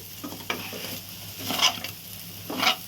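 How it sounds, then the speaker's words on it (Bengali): A spoon stirs khichuri, rice and lentils coated in hot oil, in a pot, giving a soft continuous sizzle broken by a few brief scraping strokes, close and fairly quiet, with no voices. "এবার ভালো করে একটু নেড়ে নেব"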